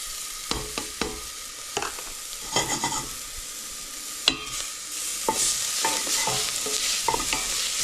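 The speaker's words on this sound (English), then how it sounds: "Now it's time to add the garlic." Garlic sizzles steadily in a hot pan while being stirred, with a continuous frying hiss under repeated utensil scrapes and taps, close and fairly loud, and no talking.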